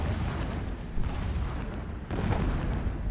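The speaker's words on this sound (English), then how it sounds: "Explosions in the distance." Distant explosions in Horizon Zero Dawn, a dense rumbling roar with a couple of heavier booming swells, steady and fairly loud without any voices.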